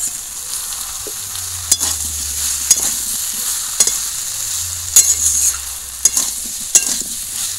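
Pumpkin and prawns with cumin paste stir-fried in a pan, a steady close sizzle broken by repeated sharp scrapes and taps of a spatula, with no voices.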